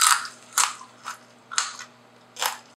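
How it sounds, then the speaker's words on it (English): Five sharp, crisp crunches come close to the ear at a steady pace, each a quick bite into crunchy roasted pumpkin seeds, with quiet between. "Listen how crunchy they are."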